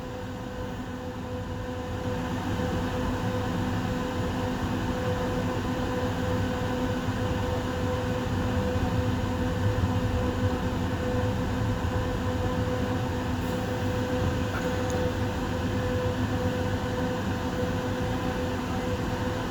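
EXO commuter train in winter running with a steady low rumble and hum from the rear cab, continuous and fairly loud, with faint high squeals near the end.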